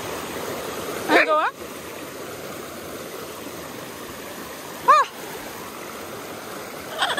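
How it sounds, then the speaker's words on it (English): Steady rushing of a river's flowing water fills the scene at close range, broken by a few sharp parrot squawks. "this is the second river we have to cross"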